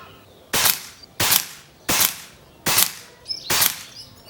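An Air Venturi Behemoth air rifle fires H&N Baracuda 15-grain pellets, with five loud, sharp close shots spaced about two-thirds of a second apart, each with a short tail, and no talk.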